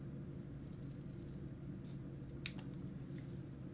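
Scissors make a straight cut along the edge of a paper compass rose, a few faint quick snips and rustles over a low steady room hum.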